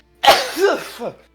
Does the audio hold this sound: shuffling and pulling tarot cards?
no